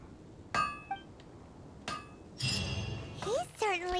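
A blacksmith in Genshin Impact hammers metal at a forge, a few sharp ringing clangs spaced apart, close and bright, with a voice talking over the later part.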